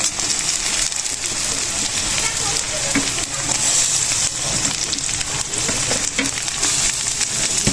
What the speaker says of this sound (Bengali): এবার দিয়ে দেবো টমেটো কুচানোগুলো